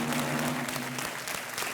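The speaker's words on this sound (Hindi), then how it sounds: "तालियां बजती रहनी चाहिए देवी और सज्जनों।" Studio audience applauding on a Hindi-language TV quiz show, a dense steady wash of clapping that fills the whole moment, close and even, with a faint background hum and no talk over it.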